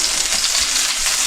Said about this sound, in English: making hamburgers too in the frying pan already